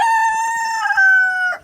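A rooster on a homestead gives one loud, close, drawn-out crow of steady harmonic tones lasting over a second and a half as the morning chickens are let out, with no talk.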